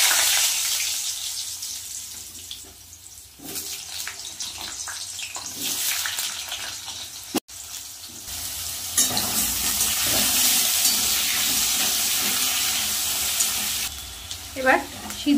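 Potatoes and boiled soybean chunks fry in hot oil with whole garam masala and fried lentil dumplings for a mung-soybean curry, giving a steady sizzle with stirring and scraping throughout, and a brief sharp break partway through.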